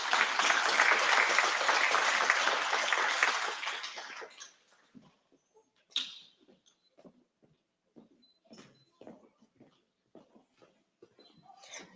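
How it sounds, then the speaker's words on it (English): Loud, steady audience applause at a tribute event for about four seconds, then it fades out into a quiet room with scattered small clicks and shuffles. "Can we give her a big round of applause?"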